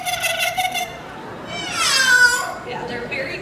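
A parrot-like bird mimics a cat's meow in a drawn-out, wavering call at a bird show at Animal Kingdom, following shorter chirpy notes, up close and clear.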